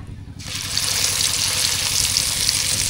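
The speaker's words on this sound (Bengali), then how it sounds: "মাছ ভাজা।" Fish drops into hot oil and sets off a loud, continuous sizzle and crackle of frying that begins abruptly within the first half-second and holds steady to the end, with no talking.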